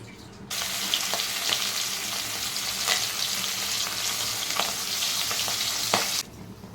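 Fish frying in hot oil, a loud continuous close spattering sizzle with occasional sharper pops, starting abruptly and cutting off near the end, without talk.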